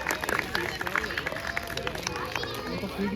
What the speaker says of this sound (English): let's have a round of applause for our keepers and their pinnipeds as they join us on stage.